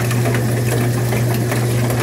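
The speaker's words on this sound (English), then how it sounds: "That is a powerful motor to have to spin all of that water." A Magic Chef 20-pound washing machine's motor spins a full drum of water, giving a loud, steady mechanical hum with a fine buzzing rattle that holds even throughout, heard close up from inside the machine.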